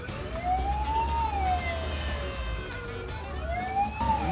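A fire engine siren wails while responding to a call, its pitch rising and falling in slow repeating sweeps, loud and steady over a low rumbling engine and road noise.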